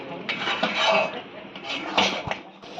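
Chicken with kasuri methi and meat masala is stir-fried in a pan, heard as intermittent scraping and clinking of a metal spoon against the pan with a low background sizzle.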